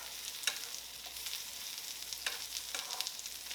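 Spicy pasta with serrano peppers sizzles steadily in a hot pan as it is tossed, with a few soft scrapes and clatters over a constant, moderately quiet frying hiss.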